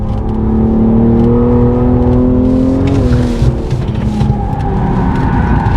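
A BMW M240i G42 accelerates hard on a race track, its engine droning loudly and steadily with rising and shifting tones, heard close from inside the car.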